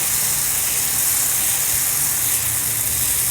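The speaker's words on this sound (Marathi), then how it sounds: "तव्यावर आपण चमचाभर मिश्रण टाकू" A loud, even sizzling hiss as a spoonful of red pumpkin and carrot uttapam batter hits a hot griddle, continuous and close, with no talking.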